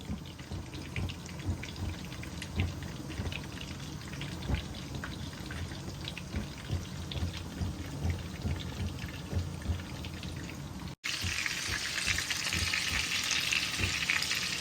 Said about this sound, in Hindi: तो हम हरी मिर्चें भी फ्राई कर लेंगे साथ में ही